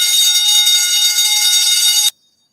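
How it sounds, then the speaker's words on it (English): A loud, continuous electric alarm bell rings steadily for about two seconds, then stops abruptly into silence. "The alarm bells are ringing,"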